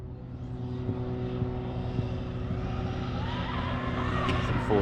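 An RC car with a Castle motor held at full throttle, a high, steady electric whine with a buzzing drone that rises slightly toward the end, heard at moderate distance.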